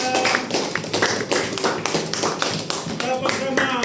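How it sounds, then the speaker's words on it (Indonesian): A group of children clapping their hands in applause in a classroom, a dense, continuous patter of claps lasting a few seconds with voices mixed in. "Kasih tepuk tangan buat Latifah."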